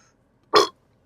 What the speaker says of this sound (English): Now you got to work the burp up.